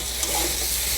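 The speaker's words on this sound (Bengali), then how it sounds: "মশলাটাকে ভালো করে ভেজে নেব।" Ground spice paste sizzles in a pan for a Bengali bete shak and potato curry, a continuous close frying hiss with soft scraping from stirring.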